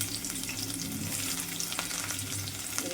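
Dried red chillies fry in hot oil with a continuous, fairly loud sizzle and crackle, steady throughout and with no talking.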